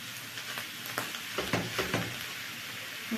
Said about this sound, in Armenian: Թող մի փոքր է տապակվի